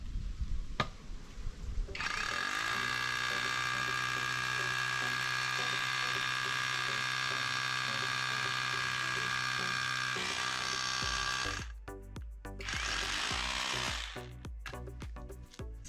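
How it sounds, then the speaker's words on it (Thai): An OSUKA cordless rotary hammer bores into a precast concrete slab, a loud, steady hammering whine that runs for about nine seconds, stops briefly, then resumes in a shorter burst. "โดยการที่เราเจาะแผ่นคอนกรีตสำเร็จตัวนี้"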